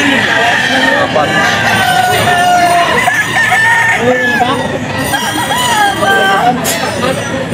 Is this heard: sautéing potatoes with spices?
no